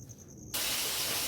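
Tilapia fish dropped into hot oil: a quiet background gives way to an abrupt, loud, steady sizzling hiss of frying that continues close up without pause.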